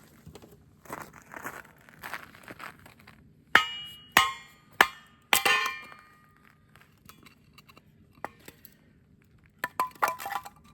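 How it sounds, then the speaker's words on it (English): A dull axe chops firewood at a winter campsite in Arrowhead Provincial Park, giving four or five sharp, loud strikes in quick succession, then a few fainter knocks and clinks against a quiet outdoor background. "While that's going, we'll chop some wood."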